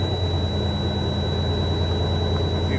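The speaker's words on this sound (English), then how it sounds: "Now I'm gonna rev the RPMs up to try to help the compressor" A truck engine is revved and held at steady high RPM to help its air compressor build pressure, which it does slowly. The result is a continuous, loud, broadband roar with a low rumble underneath and no break.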